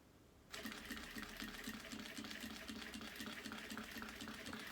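Sewing machine stitching a laptop bag, a steady close mechanical whir with a rapid even needle rhythm that starts abruptly after a quiet moment and runs continuously without talk.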